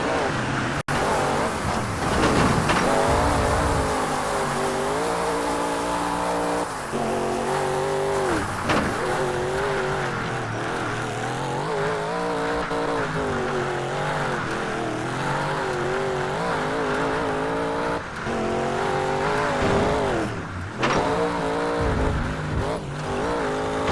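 Race car engines in the video game TOCA Race Driver 3 roar continuously and loud, rising and falling with gear changes and acceleration over a steady drone, with brief tire squeals.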